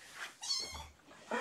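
A cat giving a short, quiet meow or two in a home, brief and close, with faint background noise.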